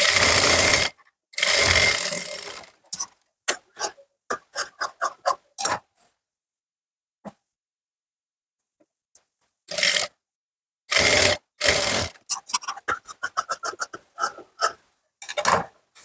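Sewing machine stitching a straight seam on a plain blouse, running in short loud bursts and rapid stitch clusters separated by pauses, with no talking.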